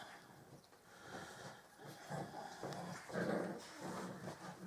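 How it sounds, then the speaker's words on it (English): A dog growls low and steady in a quiet room where paper cards are being crafted, the rumble rising and falling for several seconds at moderate closeness without talk. "Dog's growling."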